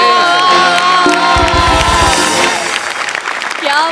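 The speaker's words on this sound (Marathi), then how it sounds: "उभा राहून टाळ्या वाजवतो." A studio audience at a Marathi comedy sketch show gives a standing ovation, loud continuous clapping with cheers and whoops, plus a burst of horn-like toots in the middle, fading slightly toward the end.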